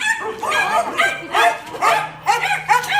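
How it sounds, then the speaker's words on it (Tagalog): Several dogs bark and yip close by in quick irregular bursts, some higher-pitched and excited, with a steady low hum underneath. "Ang dami nilang aso."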